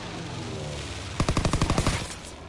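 Call of Duty WW2 gunfire rattles out as a rapid automatic burst of about a dozen loud, evenly spaced shots after a stretch of steady background game noise.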